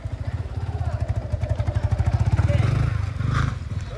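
A motorcycle engine runs steadily nearby with a pulsing, rhythmic beat that builds slightly, at a crowded place in Karimpur on a hot day.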